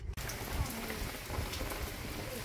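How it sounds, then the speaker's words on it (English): Light rain falls in Tampa ahead of Hurricane Ian, a steady dense patter of drops on surfaces close by, with no wind or voices over it. "Not much cloud, not much rain. A little sprinkle here and there."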